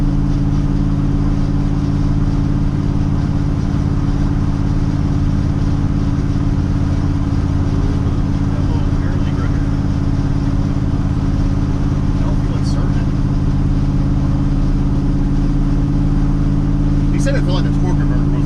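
An LS-swapped square body truck speeds up toward highway speed, a loud, steady engine drone and road rumble from inside the cab with no clear climb in pitch; people talk over it.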